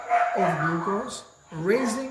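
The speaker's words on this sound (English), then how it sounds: "sorry for my dogs" Several dogs bark and yip indoors in two bursts, loud and close, mixed in with a man's continuous speech that runs over them.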